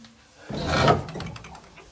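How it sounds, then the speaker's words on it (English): A door pulled shut, heard as a single brief scraping, rubbing swing ending in a soft thud, fairly close and alone. "Kalisha, pull the door now."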